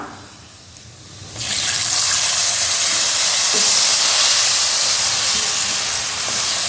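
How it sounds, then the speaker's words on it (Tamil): Two cups of thick tamarind extract poured into hot tempering oil set off a sudden loud sizzle. The close, continuous hiss then carries on steadily, with no voices. "நம்ம எடுத்து வச்ச ரெண்டு கப் கெட்டியான புளிக்கரசலை உள்ளே சேர்த்துடலாம்"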